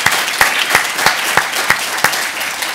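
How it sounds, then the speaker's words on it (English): Conference audience applauding at an opening session, a dense round of clapping with rhythmic accented claps recurring roughly every third of a second, loud and close, with no talking. "round of applause to Gemma"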